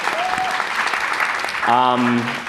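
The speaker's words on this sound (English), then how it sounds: "I think she deserves a round of applause." An audience at a community event gives a round of applause for a community leader, steady clapping throughout with a voice speaking over it near the end.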